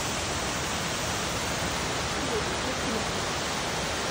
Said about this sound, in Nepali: रुकुम पूर्वमा चाहिँ यहाँ एउटा आर्टिफिसियल झरना रहेछ।